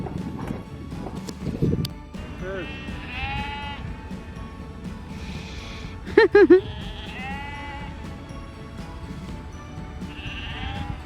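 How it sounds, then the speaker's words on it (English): Sheep in a field beside a hotel in the Cotswolds give several wavering bleats, some near and some farther off, over outdoor background noise, with scattered thumps and a sharp, loud call midway. "these are the sheep in the fields just at the front of our hotel as you drive in"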